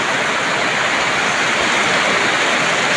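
Steady, dense rain noise from a typhoon pours continuously without pause, a broad roaring hiss like a heavy downpour with no voices.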